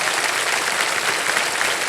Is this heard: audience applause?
yes